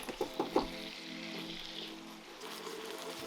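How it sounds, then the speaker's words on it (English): Steak bubbling in a mix of Worcestershire sauce and oil, a few quick pops at the start and then a steady soft sizzle, quiet and close with no talk. "it's kind of sad seeing it just boil in this Worcestershire sauce oil mixture"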